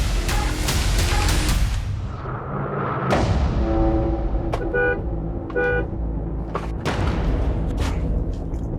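Car horns honk on a street where a vehicle is parked in the middle of the road, with several short and longer toots against a steady background of traffic noise and a few thumps.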